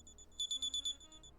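Electronic bolo alert chime from a police radio in GTA V NoPixel roleplay: a quick series of about five high, clear beeps in a row, fairly faint over a low background hum.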